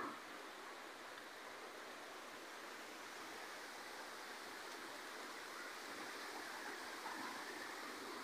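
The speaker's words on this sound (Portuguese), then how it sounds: "Olha como é que tá o rio aí, ó." A river swollen by floodwater after an overnight storm in General Carneiro rushes in a steady, loud broadband roar, unbroken and without voices.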